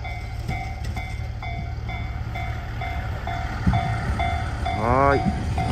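A two-car up-line train pulls in at a railway crossing with a steady rolling rumble and faint clatter, and a short rising whine near the end as it arrives.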